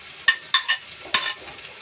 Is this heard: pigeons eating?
no